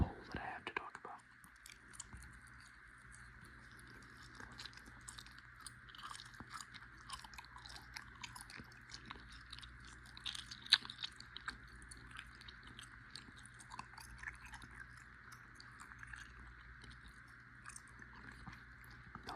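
Close, soft gum chewing with moist smacks and clicks repeats steadily throughout, over a faint constant background hum.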